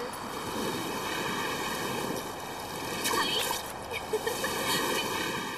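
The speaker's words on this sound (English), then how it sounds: "The waves are becoming violent." Rough surf churns and crashes steadily, with gusty wind buffeting the microphone and occasional splashes rising near the end.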